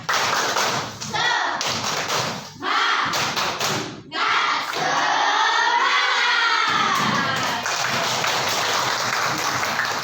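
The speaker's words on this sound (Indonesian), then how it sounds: "kita tepuk semangat dulu ya. Tepuk semangat." Classroom children doing a tepuk semangat spirit clap: loud rhythmic group clapping and thumping in quick patterns, mixed with shouted voices, filling most of the clip.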